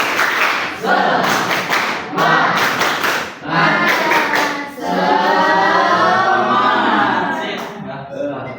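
Students in a classroom clap together in a rhythmic group cheer, loud, close bursts of clapping in patterned sets with chanted voices mixed throughout.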